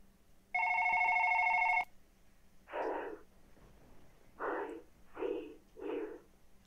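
A phone rings in the indie horror game One Late Night, a loud electronic ring lasting over a second, followed by several softer, breathy noises spaced apart in a quiet room.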